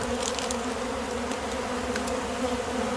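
A swarm of honeybees crowding a refilled sugar feeder in midwinter, a dense continuous buzz close by with brief individual wingbeats flicking past, no talking.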